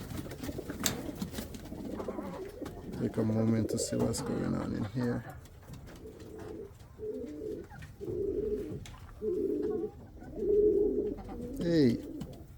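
Pigeons or doves cooing in a loft, a series of soft rounded coos in short regular bursts, with someone talking nearby at the start and other faint chirps mixed in.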